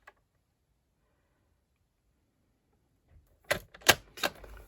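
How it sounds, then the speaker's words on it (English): A paper trimmer slices through cardstock with three sharp, close cutting snaps in quick succession after a long stretch of near silence. "I want to trim that end, don't I?"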